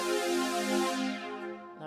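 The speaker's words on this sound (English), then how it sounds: "And I've got a pretty evocative, expressive synth sound." Casio Privia PX-S3000 synth patch with slow attack and long release sounds one bright, buzzy sustained tone that swells softly and then fades out near the end, played alone at a fairly low level.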